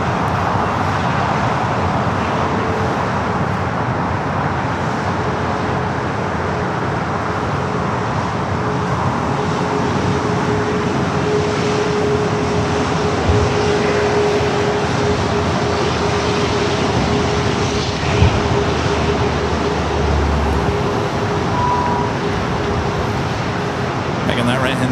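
An Alaska Airlines jet rolls for takeoff on runway 25 Right at LAX, a steady, fairly distant engine roar that holds evenly throughout with a faint whining tone and muffled background voices.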